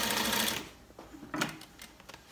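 A sewing machine stitches a sleeve dart on a dress, a loud continuous whir for about half a second, followed by a few short, quieter bursts of stitching with pauses between them.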